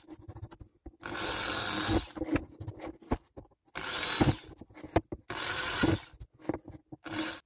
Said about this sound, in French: quand je perce, la poussière tombe dedans